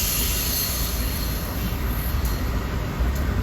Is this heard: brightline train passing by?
yes